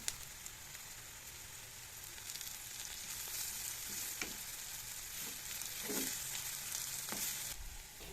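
Maldive fish and curry leaves frying in oil in a pan for corn milk rice, a soft continuous sizzle with occasional crackles and stirring scrapes, fairly quiet and close.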